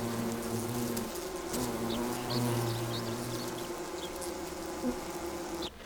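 A swarm of angry bees buzzes around beehives in rural Japan, a dense continuous drone with a few louder individual buzzes passing close, and no voices.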